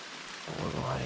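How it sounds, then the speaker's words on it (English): Rain falling outdoors during a Georgia bow hunt, a soft hiss of steady rainfall that swells louder partway through. "as y'all can hear, the rain has finally moved in"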